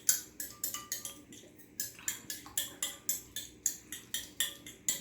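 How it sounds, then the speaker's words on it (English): Egg whisked in a bowl to break up the yolk, a quick regular tapping of utensil against the dish, about three strokes per second, close and clear without talk. "This is just to break the yolk up and mix it up a little bit so you don't have like a streak of yolk in"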